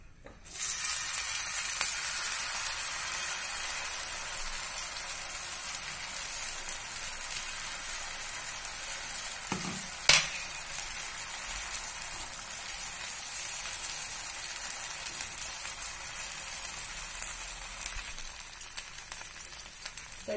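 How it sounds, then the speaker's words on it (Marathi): Poha uttapam batter sizzling in oil on a hot tawa, a steady bright crackling fry that continues for the whole stretch with one brief clink partway through. "त्याच्यावर मी थोडस 2 चमचे तेल घालते आहे आणि आता आपण त्याच्यावर उत्तप्पा घालून घेऊया."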